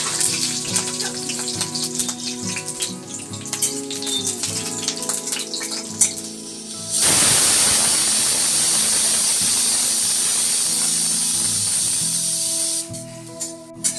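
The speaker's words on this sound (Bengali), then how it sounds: "এবার আমি এই তেলের মধ্যে গোটা রসুনের কোয়াগুলো ভাজার জন্য দিয়ে দেবো।" Whole garlic cloves drop into hot oil and set off a sudden loud, steady sizzle that holds for several seconds before easing off, after a stretch of quieter kitchen noise.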